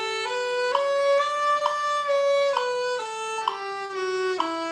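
A bowed string instrument plays an octave scale with eight notes per bow, the pitch stepping clearly and evenly from note to note in a clean, close, solo passage with no talking.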